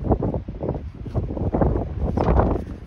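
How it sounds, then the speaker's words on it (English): Strong wind buffets a van parked by a choppy ocean on a cold day. Gusty, rumbling roars rise and fall irregularly, close to the microphone, with no talking. "You could tell it's very windy."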